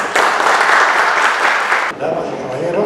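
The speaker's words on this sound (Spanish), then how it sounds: "con un fuerte aplauso." An audience at a mining engineers' evening event applauds a speaker's welcome, a loud burst of clapping that cuts off abruptly after about two seconds, giving way to a voice over a microphone.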